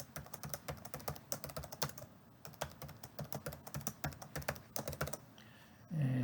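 Rapid, light clicks of a computer keyboard come in steady bursts as a username and password are typed, close and quiet with no talking, ending in a short soft thump.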